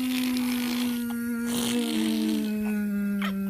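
A young child hums a sustained buzzing tone with their voice, imitating a bee, the drone wavering slightly in pitch and continuing steadily throughout with small breathy breaks.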